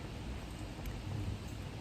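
Steady rain from a thunderstorm hisses evenly throughout, with a low rumble of thunder rolling underneath near the middle, constant and unbroken with no talking.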